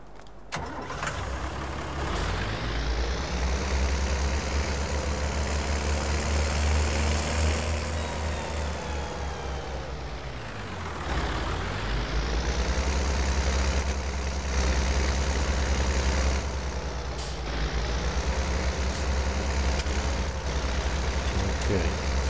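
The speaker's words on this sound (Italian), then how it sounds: "andiamo a usare il trattore" A tractor engine in Farming Simulator 19 cranks and starts, then idles and revs as a loud, steady low rumble that dips briefly midway before settling back into a constant drone.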